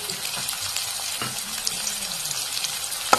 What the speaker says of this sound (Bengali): তো এটা আমি সামান্য বাজিয়ে নেব।